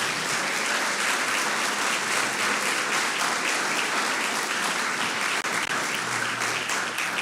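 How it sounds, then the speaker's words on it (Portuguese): A church congregation claps continuously, a thick, even roar of applause that fills the room for several seconds with no words spoken over it. "Vamos aplaudir ao Senhor Jesus."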